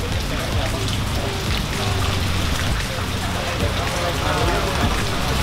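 Steady heavy rain pours down on a surface outdoors in Bandung, a dense, even hiss and patter filling the whole stretch, close and loud.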